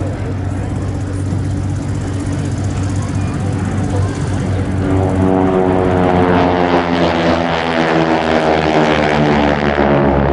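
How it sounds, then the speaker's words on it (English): Propeller aircraft at the Duxford summer air show, a loud droning engine whose buzzing note rises as the propeller tips go supersonic, growing louder as it passes close. A voice speaks over it. "the very distinctive note of the carbon caused not directly by the engine, but it's a sound effect resulting from the propeller tips going supersonic"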